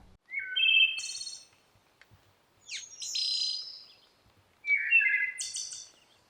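Three bursts of high, thin, fluty Bicknell's thrush song with rising and descending whistled notes, separated by short pauses, fairly clear and alone.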